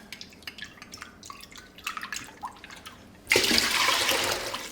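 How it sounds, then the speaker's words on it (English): Water pours into a pot for salted pasta water, a sudden loud rush that starts after scattered drips and splashes and keeps going steadily to the end. "another liter of water, which is about 4 cups. Okay, and another 3/4 tablespoon of salt. And we're just going to mix that in."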